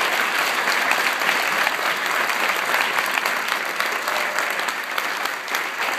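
Young people in a museum audience applaud Dr. Kenneth Phillips, giving steady, dense and loud clapping that holds evenly for several seconds without letting up.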